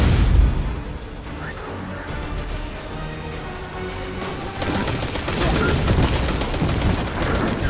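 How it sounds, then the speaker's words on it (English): Missiles burst in a Destiny 2 battle against the Red Legion: dense, rumbling blasts and crackling gunfire-like booms roll on continuously, loud and close, swelling again in the second half. "Missiles! Stay inside my shield!"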